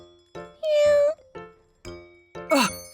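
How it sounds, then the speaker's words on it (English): A kitten meows repeatedly, with several short close mews and one longer, drawn-out cry in the middle, followed by a final rising squeal. "Did you just hear a cat meowing?"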